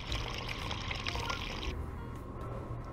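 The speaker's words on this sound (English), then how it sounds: "Pour it out into a cup and then we can serve it." Smoothie poured into a cup in the VR game Job Simulator, a steady liquid pouring splash that cuts off abruptly partway through, leaving a low background hum.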